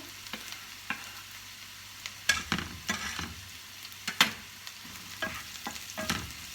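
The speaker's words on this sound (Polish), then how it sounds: "Kroimy czosnek, takie grubsze kawałki. Również wrzucamy na patelnię." Thick-cut garlic pieces frying in a pan alongside shrimp, a steady low sizzle broken by irregular clicks and scrapes of stirring, close up with no talking.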